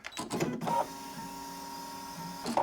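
Brother ScanNCut2 CM350 cutting machine starting a cut, a brief mechanical clatter followed by a steady motor whine with faint tonal hum, close and moderately loud.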